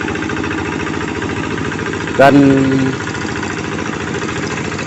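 A hand tractor working a rice paddy runs with a steady mid-pitched engine chug and rhythmic knocking throughout, close and continuous, with a brief brighter tonal sound briefly overlaid in the middle.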